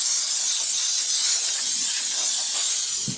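Compressed air blasts grease off the axles of a Simplicity Sunstar tractor, a loud, steady hiss held close for about three seconds with no talk.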